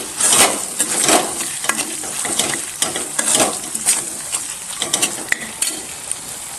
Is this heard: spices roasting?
yes